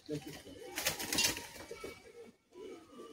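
Pet pigeons cooing close by, soft low burbling calls with a brief flutter midway, while someone talks over them.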